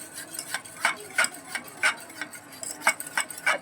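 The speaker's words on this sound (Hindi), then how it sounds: "मैं यहाँ जा रही हूँ दही फेंटने के लिए।" Curd is whisked for raita in a bowl, the whisk clicking and tapping against the sides in quick, uneven strokes, close and fairly crisp with no talking.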